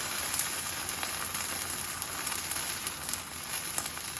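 Birria quesa-tacos frying in oil on a comal, a steady bright sizzle with small crackles and pops, close and continuous, with no talk.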